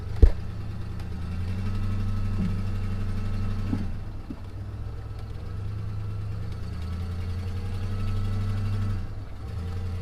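A lifted OBS Ford F-150 truck's engine runs at a steady, low rumble, close and continuous, with a couple of sharp knocks and clanks over it.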